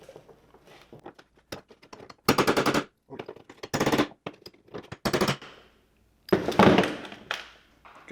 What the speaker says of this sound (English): Let's bang on the opposite side.